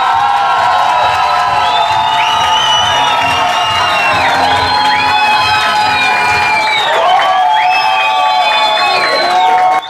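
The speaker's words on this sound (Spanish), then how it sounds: "Que sean fuertes los aplausos para Camilo Cruz" A loud crowd at a televised talent show claps and cheers throughout, with shrill whoops and children's shouts rising over a dense, sustained roar that holds steady from start to finish.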